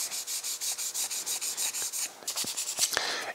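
Steady back-and-forth rasping of hand sanding on bent sheet-metal channel from a 1951 shoebox car, repeated in a quick regular rhythm, close up, with a few sharper scrapes near the end.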